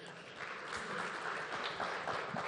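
Audience applause at a film industry event as a guest from Malayalam cinema takes a seat: steady, even crowd clapping, moderately distant and sustained throughout.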